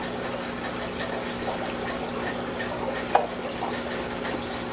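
Water trickles and splashes steadily while a guppy aquarium is being refilled, a continuous close wash of liquid with one sharper drip or clink partway through.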